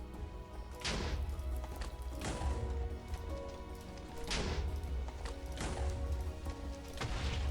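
End crystals detonating one after another while fighting the dragon in Minecraft, five loud broadband blasts spaced about one to two seconds apart over a low rumble.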